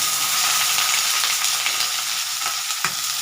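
Potato, capsicum and beans hit hot oil in a pan on a gas stove and fry with a loud, steady, hissing sizzle, close up, with a few brief stirring scrapes and no talk.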